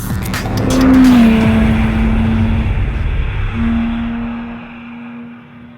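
A Porsche 911 GTS with an uncorked 450-horsepower 3.8-liter flat-six wails toward 8,000 RPM, a loud sustained engine howl that dips briefly between gear changes, with tire noise, heard up close.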